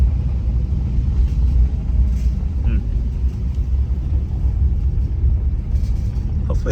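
A 1963 Chrysler rolls along a gravel neighborhood street in South Dakota, giving a steady low rumble of engine and tire crunch from inside the car, continuous and fairly loud throughout.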